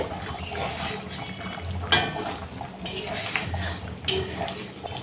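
A utensil scrapes and clinks in a pan as salt is stirred into a raw hilsa fish curry, with several sharp metallic knocks over a low background of cooking.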